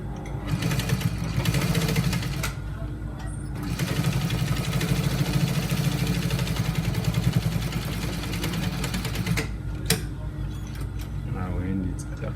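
Domestic sewing machine running a straight stitch along a trouser pocket's square front edge, a steady continuous mechanical whir with one short pause, close and loud.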